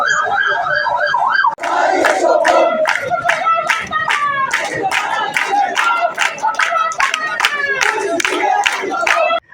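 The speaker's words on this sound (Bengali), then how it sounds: "আন্দোলনরত শিক্ষার্থীরা স্লোগান দিতে দিতে পুলিশি বাধা উপেক্ষা করে মহাসড়কে অবস্থান নেয়" Crowd of protesting students loudly chanting slogans in rhythmic unison on a highway, repeated shouted phrases with a steady cadence, dense and close throughout.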